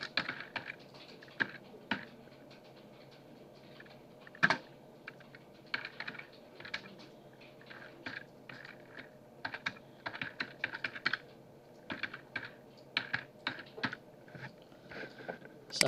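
A command typed on a computer keyboard, irregular bursts of close, crisp key clicks with short pauses and a few louder strikes.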